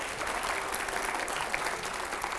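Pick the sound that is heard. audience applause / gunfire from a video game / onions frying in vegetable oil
audience applause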